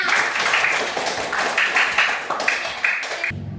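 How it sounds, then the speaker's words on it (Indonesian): Classroom clapping for a classmate who answered a multiplication question, a short burst of children's hands clapping in uneven rhythm with a brief tonal chant-like pattern, ending abruptly. "Tepuk tangan untuk temannya."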